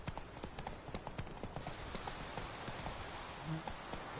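Roach the horse gallops in The Witcher 3, a steady run of close, quick hoofbeats clip-clopping over a constant outdoor rumble, with no talk.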